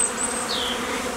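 Honeybees buzzing as they fly out of the hive on a late February day, a close, steady droning hum with a bee whizzing past near the microphone.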